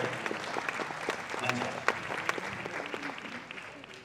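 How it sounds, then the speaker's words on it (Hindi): Audience applause welcoming two performers on stage at a multilingual music concert, a steady dense wash of clapping with a few sharper individual claps, moderately loud and continuous throughout. "जोरदार तालियों से दोनों ही कलाकारों का स्वागत"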